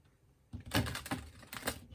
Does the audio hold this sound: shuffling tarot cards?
yes